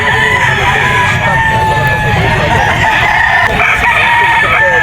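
A yellow-legged Boston Roundhead gamefowl rooster crows loudly at a busy pet market, with other roosters crowing and clucking around it amid constant crowd noise.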